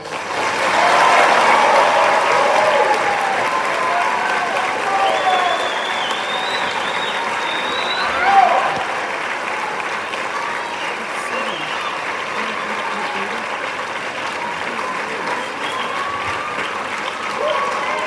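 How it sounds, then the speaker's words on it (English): Sustained round of applause from an audience at a junior honor society induction ceremony, steady and full for about eighteen seconds, with a brief louder swell midway. "And let's give a round of applause."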